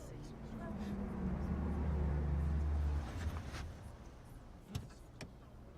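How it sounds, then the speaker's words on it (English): A Ferrari pulls up in the Batman Telltale video game, its engine drone rising and settling for a few seconds before fading, followed by a faint door-like clunk, with voices talking. "Pull up in a fucking Ferrari"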